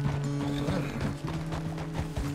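Horse hooves clip-clopping in the Red Dead Redemption 2 game, a steady rhythmic trot of repeated hoof strikes over a continuous tonal music bed, close and fairly loud.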